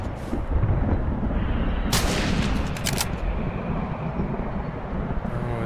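Gunfire in the video game Lost Planet 3 fills the scene with dense, rumbling bursts, loud and continuous, with sharper cracking shots between two and three seconds.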